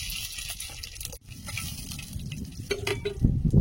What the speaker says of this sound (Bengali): কড়াইতে তেল দিয়ে দিচ্ছি, একটা শুকনো লঙ্কা হাফ ফাটিয়ে তেলে দিয়ে দিচ্ছি, আর দুটো তেজপাতা দিচ্ছি।